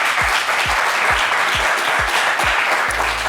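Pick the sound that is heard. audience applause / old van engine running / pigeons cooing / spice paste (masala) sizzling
audience applause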